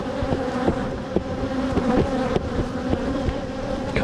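Honey bees swarm over a hive frame being handled, a dense steady buzzing close up with no talk, and brief knocks and handling noises scattered through it.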